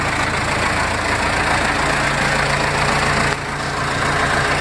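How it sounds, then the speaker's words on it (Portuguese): A Case 580M backhoe loader's diesel engine runs steadily and loudly close by, a heavy low rumble with a knocking idle character that dips slightly in level near the end. "mostrando aí o ronco do motor da 580M"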